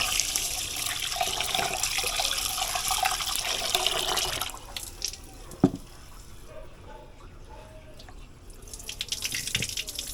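Jasmine rice being washed under a running kitchen tap in a sink, a steady rush of water for several seconds that drops to quieter trickles, swishes and drips.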